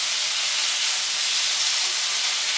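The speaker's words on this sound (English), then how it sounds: "you want to get a nice, quick sear on it, just to give it a little flavor on the outside" Beef searing in a hot pan for fajitas, a steady, loud broadband sizzle that holds constant throughout with no talking.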